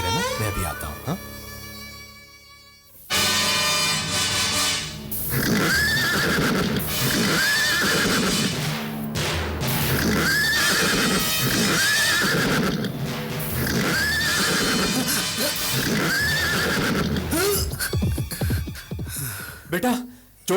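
Horses neigh and whinny repeatedly, loud and close, over a busy soundscape of hooves and rushing noise, with a quieter opening before the commotion starts.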